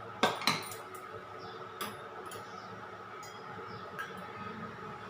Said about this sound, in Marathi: आता ह्याच्यात गरम तेल ओतणार आहे, गरम झालेलं तेल टाकूया